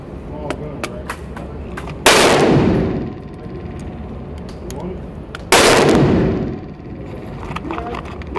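Two loud, close gunshots fired with Federal ammunition, a few seconds apart, each followed by a long echoing decay, with faint clicks and handling noise in between.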